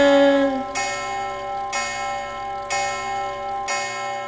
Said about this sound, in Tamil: டிக் டிக் டிக் கடிகாரம்